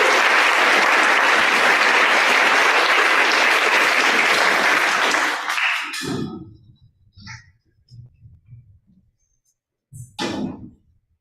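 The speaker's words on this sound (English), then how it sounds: "let's give a round of applause to the best sister ever" An audience at a senior speech event claps loudly and steadily for about five seconds, then the applause fades out, followed by scattered thumps and quiet handling sounds.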